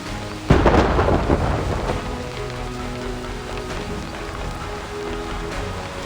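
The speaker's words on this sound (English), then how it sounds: "What kind of storm is this?" A thunderstorm in the video game Reverse 1999 opens with a sharp, loud thunderclap that rolls off over steady heavy rain, the downpour continuing as a dense wash afterward.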